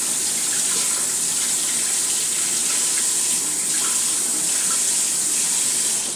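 Cold water runs steadily from a kitchen tap, a loud, continuous broadband rush of splashing flow with no break and no talk.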